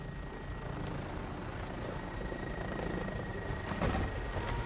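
Helicopter in the Modern Warfare video game, a steady close rotor drone running continuously without pause, with some brief clatter near the end.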